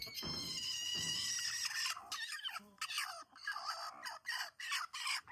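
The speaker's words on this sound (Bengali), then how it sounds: "এখন হচ্ছে দুই মুরগি মারামারি করতেছে" Two hens scuffle and cluck near a nesting spot with eggs, starting with a sustained squawking cry, then a run of short, sharp clucks and calls at close range.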